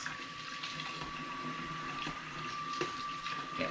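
Hot tap water runs steadily over hands being wet for washing at a sink, a continuous close splashing hiss with a faint steady tone behind it and no talk.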